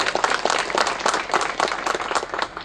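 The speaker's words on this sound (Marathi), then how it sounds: "त्यांच्यासाठी एक जोरदार टाळ्या सगळ्यांना" Audience applause at a groundbreaking ceremony for the Kumbhavade minor irrigation dam project in Kankavli, Sindhudurg: dense, steady clapping from a crowd, loud and continuous with no talk over it.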